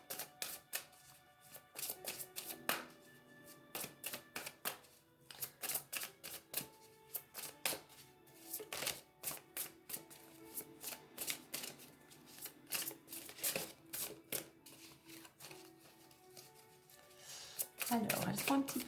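Large oversized cards being shuffled by hand, a dense run of quick papery riffles and flicks close up, with brief pauses and a louder rustle near the end.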